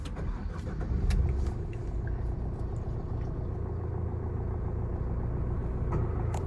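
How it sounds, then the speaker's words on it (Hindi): Tata Altroz diesel car engine idling, a low, steady rumble with a slight clatter, close and continuous, swelling briefly near the start as it settles into idle. "मैं एक बार गाड़ी स्टार्ट करता हूँ। डीजल वेरिएंट है"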